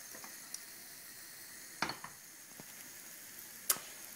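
Frittata with bruscandoli, wild hop shoots, cooking in a pan: a faint, steady low sizzle with occasional soft clicks and a few sharper ticks, quiet and close with no voices.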